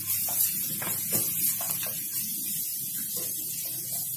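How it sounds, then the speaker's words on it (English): Grated ginger and garlic hit hot olive oil with a close, hissing sizzle that crackles in short bursts and then settles into a steady, softer frying hiss without any talking. "To this olive oil, we're first going to add our ginger and garlic grated."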